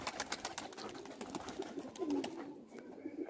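Pigeon from a neighbouring house cooing in soft, low repeated calls amid outdoor background noise, fairly faint and close.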